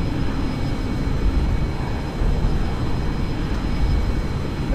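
A simulated airplane engine in X-Plane 11 drones steadily with the throttle held open, a constant, loud broadband roar with no break across the whole stretch.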